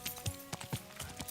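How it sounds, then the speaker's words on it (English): Horse hooves clip-clopping at a steady riding pace in the medieval role-playing game Kingdom Come: Deliverance 2, several distinct footfalls in quick rhythm, moderately loud and close. "I'm just going to ride on down on a horse today"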